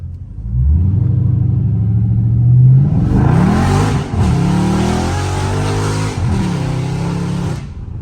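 A Dodge Charger Scat Pack V8 being drifted, its engine loud and close, climbing through a rising rev, then roaring at high revs with sharp dips between surges and a hissing tire-scrub wash, with no talking.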